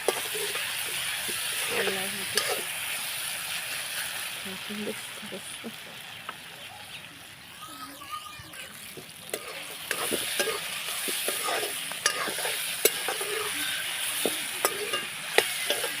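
Raw banana curry frying in a pan while being stirred and flipped, a steady sizzle with repeated spatula scrapes and taps near the mic, a voice speaking over it at times.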